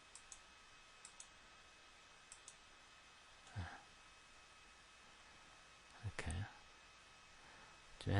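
Sparse, faint mouse clicks tick at irregular intervals on a computer while working in OrCAD PCB Editor, with a couple of louder handling bumps and a voice speaking quietly between them.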